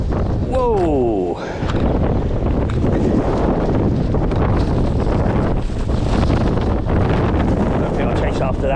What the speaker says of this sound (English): look at that wind! It's into the bag